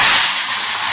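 Curry leaves hitting hot oil while a fried-fish pickle is made, giving a loud, steady sizzle with a dense broadband hiss for about a second and no talk over it.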